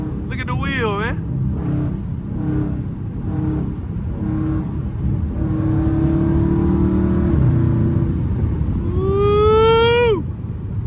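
Dodge Scat Pack engine held on the gas around a long curve: a steady, loud engine drone from inside the car, with someone talking and whooping over it, and sharp rising whines near the start and end.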